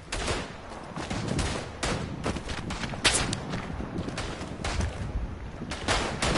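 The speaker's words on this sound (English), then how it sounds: "Oh, someone's shooting at me." Rapid gunfire crackles through a battle in the World War I shooter Verdun, with dense repeated shots and bursts of fusillade layered throughout, some sharp reports standing out close by.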